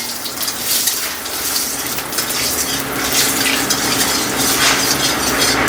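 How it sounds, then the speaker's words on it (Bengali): Mustard seeds crackle and sizzle in hot oil as they are stirred, a dense close spattering with light scraping underneath, steady and loud. "এবারে একটু নাড়িয়ে চালিয়ে নেবো সর্ষেগুলো"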